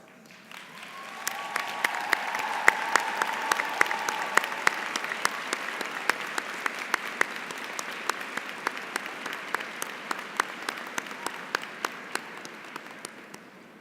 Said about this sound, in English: may we invite them to please stand and receive our applause